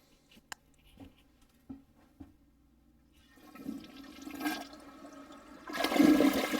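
A newly installed toilet is flushed: a few soft clicks and handle taps, then the water rushes in and swells into a louder gurgling flush near the end.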